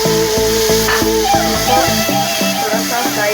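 Tomatoes, garlic and green chillies fry lightly in a pan, a loud steady sizzle with rhythmic stirring, while background music plays throughout.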